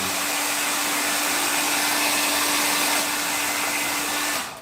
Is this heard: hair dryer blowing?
yes